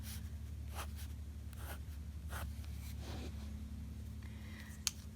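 A pen or pencil draws a cartoon character's legs on paper, giving soft, close scratching strokes in short irregular bursts over a steady low hum, with no talking.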